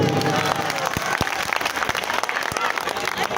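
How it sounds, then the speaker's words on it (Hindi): Crowd at a political rally in New Delhi bursting into loud, dense applause, steady rapid clapping filling the whole stretch with a few sharp claps standing out near the front. "एक बार जोरदार ताली अपने लिए बजा दीजिए सब लोग।"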